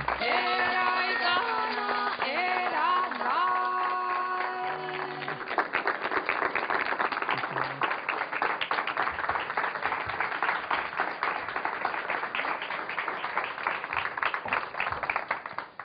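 Musical tones fade out after a few seconds and an audience at a cultural interview programme breaks into strong, sustained applause for Estela de Carlotto, the clapping dense and lively until the end.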